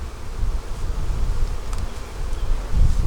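Honey bees buzz around an open hive as its queen excluder comes off, a dense continuous hum close by, with individual insects droning past.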